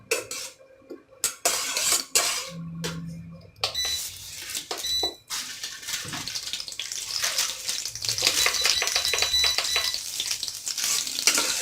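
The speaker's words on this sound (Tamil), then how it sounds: "பச்சை மிளகாவையும் ஆட் பண்ணிவிட்டு இந்த மாதிரி நல்லா வதக்கிக்கிறோம்" Green chillies saute in a pan for a herbal home recipe, an uneven close sizzle with utensil scrapes and stirring that builds louder and steadier toward the end, without speech.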